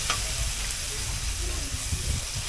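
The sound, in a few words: tomatoes simmering in the pan for chicken pochero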